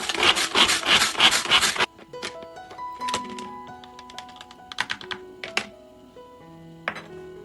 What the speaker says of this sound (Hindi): तो लहसुन को भी हम कुछ ऐसा ही दरदरा करेंगे।